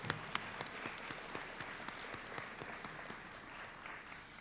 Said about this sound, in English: So let's give another round of applause for everybody on stage as well as our guests.